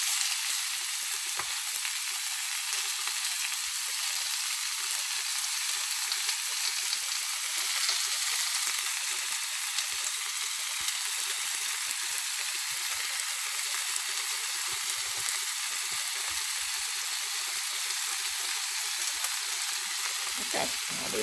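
Sliced cheesesteak meat frying on a hot griddle, a loud, steady, bright sizzle that runs unbroken and close, with no talking over it.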